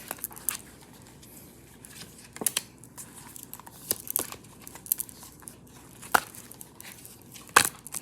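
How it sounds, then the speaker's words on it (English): A deck of tarot cards being cut by hand, heard as soft papery rustles and crinkles punctuated by several sharp, close snaps, with no talking. "I'm gonna just cut the deck"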